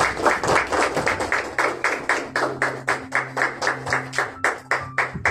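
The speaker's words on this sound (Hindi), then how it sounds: "आपकी जोरदार तालियों में।" A church congregation applauds steadily for several seconds at a sermon, dense clapping with a sharp, even rhythm, heard up close without voices.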